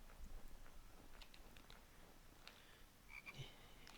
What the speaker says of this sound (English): Where is this frog? He sounds like he's close.